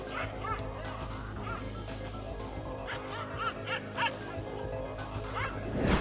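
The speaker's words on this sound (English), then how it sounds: "This brave little dog barks his disagreements to not one, but two wild African lions" Small dog yapping repeatedly at two wild African lions outdoors, high excited barks scattered over a low steady background rumble, moderately near.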